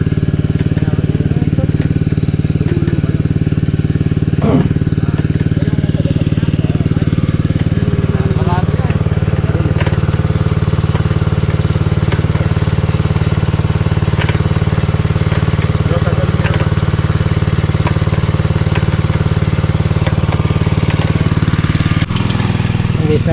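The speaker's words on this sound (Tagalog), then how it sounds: "Buti may dala silang ano, reserbang makina, Robin." A small engine drones steadily and loudly the whole time, an unchanging mechanical hum, with voices faintly heard over it now and then.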